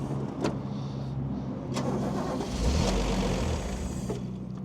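A Toyota Cressida MX32 at a wrecking yard cranks and catches, a close, fairly quiet car engine turning over with a few sharp clicks before a brief swell of running engine; no talking.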